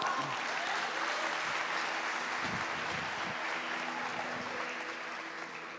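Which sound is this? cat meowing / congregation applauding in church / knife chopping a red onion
congregation applauding in church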